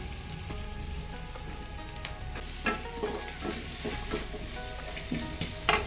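Spice powder sizzles and fries in sautéed masala of onions and cumin powder for chicken fried rice, a steady close hiss with a few soft scrapes and taps from stirring.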